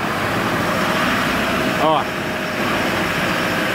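A Toyota Hilux engine runs with a steady loud drone while the truck is engaged in 4x4 low range, a brief whirring rise near the middle, and someone speaks over it.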